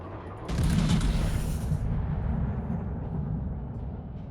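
A heavy naval gun salvo from the Japanese premium battleship Ishizuchi in a naval combat game booms out, one loud deep blast followed by a long rolling rumble that slowly fades.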